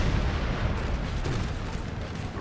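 Artillery fire in the Napoleon Total War video game, a dense continuous rumble of booming cannon blasts and distant bursts at steady loudness with no talking.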